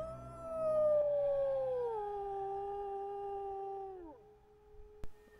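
A timberwolf in a video game lets out one long, loud, clear howl that slowly slides downward in pitch and fades out after about four seconds, followed by a brief click.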